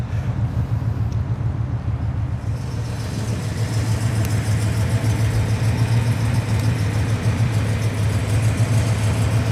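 A 1967 Cadillac Eldorado with true dual exhaust idling close by, a loud, steady low rumble that holds even and unbroken the whole time.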